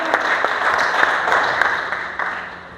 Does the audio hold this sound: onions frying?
no